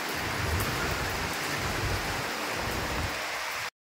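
Heavy rain and strong wind sweep across a house rooftop, a loud, steady roaring wash with low rumbling gusts that continues without pause and then cuts off abruptly, with no speech.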